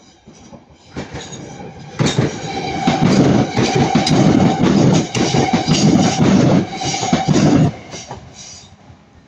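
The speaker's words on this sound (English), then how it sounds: "that's going to be Northern Class 323 going from Manchester Piccadilly to Hatfield" A Northern Class 323 electric multiple unit passing at Ardwick on a Manchester Piccadilly service, rising from a quiet start into a loud, close rumble of wheels with rhythmic clickety-clack over rail joints and squealing tones, then easing off near the end.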